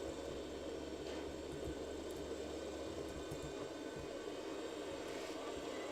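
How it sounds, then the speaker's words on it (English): A helicopter flies in Grand Theft Auto: Vice City, a quiet, steady engine drone with a low, throbbing rotor rumble underneath, heard alone. "number 6 makes the helicopter fly backwards"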